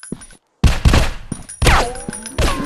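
Rapid bursts of gunfire in the mobile zombie shooting game Zombies Fire Strike, loud and close, with short silences between volleys and ringing tonal echoes after some shots.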